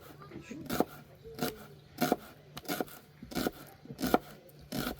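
A knife slices medium onions thin and long on a board in steady, separate chops, close by, with faint rustling between strokes.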